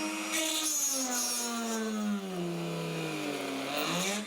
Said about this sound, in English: I'm using my Dremel and workstation to ensure a vertical hole